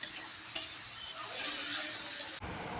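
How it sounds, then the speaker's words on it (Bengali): Spices frying with turmeric and salt in a pan of oil, a steady close sizzle with a few sharp utensil taps, ending in an abrupt scrape near the end. "তো হলুদ দিয়ে একটু ভেজে নিচ্ছি।"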